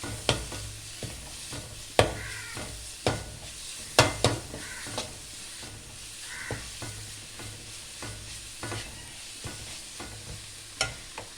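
Ginger-garlic paste frying in a pan for a papaya chicken curry, with a steady sizzle broken by repeated sharp scrapes and clinks of a spoon stirring against the pan every second or two.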